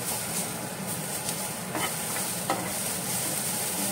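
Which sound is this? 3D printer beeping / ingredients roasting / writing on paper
ingredients roasting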